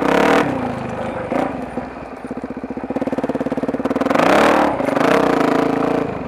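A supermoto motorcycle on overgrown grass at an abandoned golf course revs hard and close in repeated bursts, the engine dropping to a rough, rapidly pulsing idle in between as the rear wheel spins for traction.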